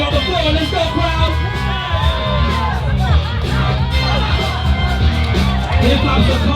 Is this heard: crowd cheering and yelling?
yes